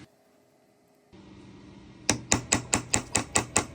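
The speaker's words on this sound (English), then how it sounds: "We're gonna drill, so we want a center punch." Eight sharp metallic hammer strikes on a center punch marking old bullet metal for drilling, evenly spaced and close, following a quieter stretch of low background noise.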